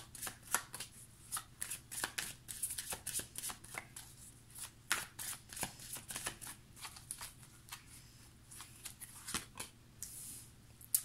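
Tarot cards are shuffled and drawn in a steady run of soft, close riffles and light slaps with brief pauses, quiet throughout and without talking.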